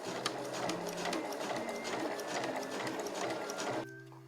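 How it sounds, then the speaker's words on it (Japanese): A sewing machine stitches a 12 cm zipper along the edge of Marimekko fabric for a small curved pouch, running in a fast continuous mechanical whir up close before stopping abruptly near the end. "目打ちとかでこの布端にファスナーを揃えて縫っていきます"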